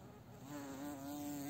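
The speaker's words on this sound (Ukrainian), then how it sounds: "Але тут дивіться, які бджоли, джмелі." Bees and bumblebees buzz around a lavender bush in a garden, making a close, steady droning hum that rises and wavers slightly as they move.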